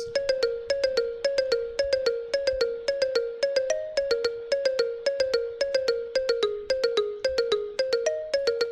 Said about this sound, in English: Marimba sounds so good, and I used it in this beat as well.